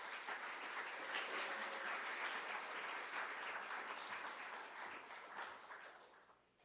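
Audience applause welcoming Professor James Conant to a philosophy lecture on Wittgenstein: steady, dense clapping from a crowd in a hall, sustained at even strength before tapering off at the end, with no talking.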